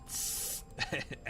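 A spray bottle gives a single short hiss of mist, close and soft, followed by a brief voice.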